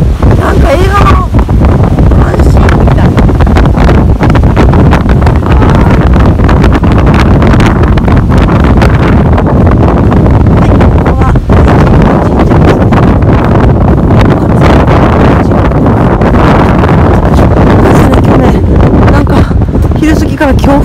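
Strong gusts on Tsushima island roar and buffet the microphone loudly and continuously, a dense rumbling wind noise that nearly drowns a person speaking.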